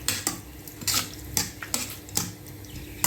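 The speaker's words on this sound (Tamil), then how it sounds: "போட்டு கொஞ்சம் நல்லா கலர் விட்டுடுங்க." A metal spoon stirs masala in a rice cooker pot for vegetable biryani, making sharp clinks and scrapes against the pot at a fairly regular pace, close and clear.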